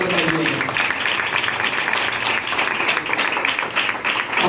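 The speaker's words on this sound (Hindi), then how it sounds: "रूहुल कुद्दस के लिए जोरदार तालियां बजाएंगे" A church congregation at an Easter service claps loudly and steadily for the Holy Spirit, a dense wash of many hands heard close and continuous.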